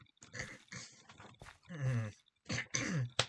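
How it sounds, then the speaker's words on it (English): Several harsh, rasping throat-clearing noises come in short bursts with brief pauses between, close and fairly quiet. "I have to clear my throat, apparently."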